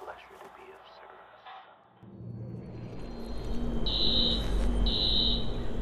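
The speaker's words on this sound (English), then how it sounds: "Alarm's been tripped." An alarm trips in Watch Dogs: after muffled voices and a rising rumble, a loud, piercing electronic alarm tone sounds in two pulses over heavy background noise.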